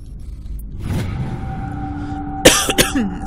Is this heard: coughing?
yes